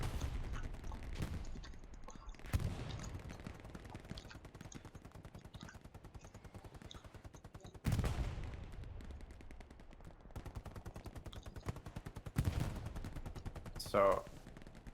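Bursts of aircraft gunfire rip through an online battle game during a strafing run, several sharp volleys and booms spaced across the scene with rattling automatic fire between, while a commentator talks over it.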